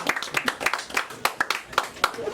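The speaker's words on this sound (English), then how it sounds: "one more round of applause" A small audience at a Friday night gathering claps in a brief, uneven burst of individual hand claps, close and fairly loud, with voices mixed in underneath.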